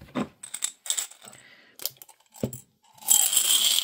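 Euro cent coins clatter and jingle in a box in short bursts, close up, ending in a longer shaking rattle of metal pieces.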